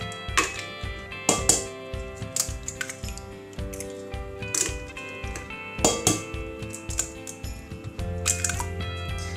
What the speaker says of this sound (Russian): вбиваем их в большую миску